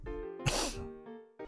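A single sharp sneeze bursts out close to the microphone amid a brief voiced sound, with short tonal noises before and after.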